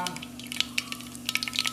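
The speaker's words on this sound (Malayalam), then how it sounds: "ഉരുളി ചൂടായതുകൊണ്ട് വെളിച്ചെണ്ണ ഒഴിച്ചപ്പോഴേ തിളച്ചു. കടുക് ഇട്ട് കൊടുക്കുവാണ്." Mustard seeds popping in hot coconut oil in a heavy cooking vessel, with quick sharp pops and crackles over a low hiss and a steady hum, close and brief.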